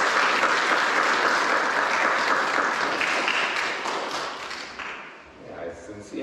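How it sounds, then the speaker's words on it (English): Audience at a school public speaking event applauds in a loud, dense, sustained wash of clapping that holds steady, then tapers off near the end as a voice begins. "Can we give them a round of applause?"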